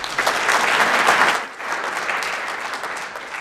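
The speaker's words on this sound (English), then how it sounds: "A big round of applause, please." Applause fills an award ceremony hall for a physician honored with the Dooley Award, a steady loud clapping crowd that eases slightly after a second and a half and carries on.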